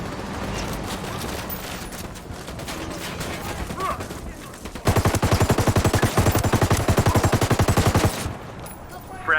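Gunfire in the video game Ghost Recon Wildlands: scattered shots and game sounds first, then a loud sustained burst of rapid automatic fire for several seconds before it breaks off.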